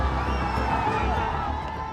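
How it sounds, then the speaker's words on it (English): A protest crowd surging toward Parliament, a dense roar of shouting and cheering voices, loud and continuous throughout. "And the crowd surges towards Parliament."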